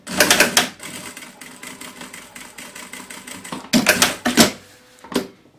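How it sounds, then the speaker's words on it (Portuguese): A sewing machine stitches the pocket flap of a fabric reusable tote bag in several loud, rapid bursts separated by quieter pauses, close up and alone. "Abro aqui e vou costurar essa lapela aqui"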